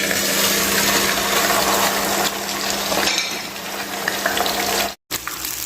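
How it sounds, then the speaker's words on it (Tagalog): Oil sizzles and crackles steadily and loudly as tilapia fries in a pan, with a brief break near the end before the sizzle resumes. "iprito na natin yung ating tilapia"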